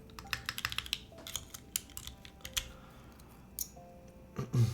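Keys clack on a Bauerlight mechanical keyboard in quick, uneven bursts of crisp clicks with short pauses between, heard up close over quiet room noise.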